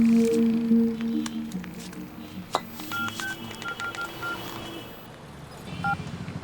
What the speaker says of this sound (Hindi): लड़कों को फोन लगा।